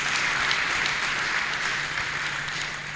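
Congregation at a church service applauding mightily, a dense, even wash of many hands clapping at once, loud and sustained throughout without talk.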